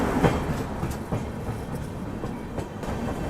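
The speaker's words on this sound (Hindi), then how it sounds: "अब यहाँ से सीधे हमारी ट्रेन निकल जाएगी गोविंदपुरी की तरफ" Passenger train running at night past Old Kanpur station in India, a steady rumble with clickety-clack of wheels on rail joints, continuous and fairly close.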